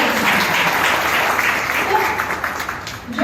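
Audience applause at a sickle cell anaemia eradication workshop: steady, dense clapping from a seated crowd that continues for the whole stretch, with a voice faintly audible underneath.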